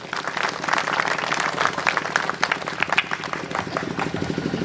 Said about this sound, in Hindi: तो मोए चला हमरे उके स्वागत स्वरूप तनिकन ताली बजाए दे।